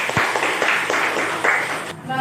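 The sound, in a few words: applause for a student group's presentation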